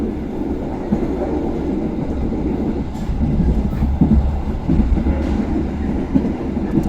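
Interior of a Pasundan economy class train rolling along the track near a crossing with the Kahuripan train, a steady rumbling drone with faint clickety-clack wheel knocks building slightly, no clear talking.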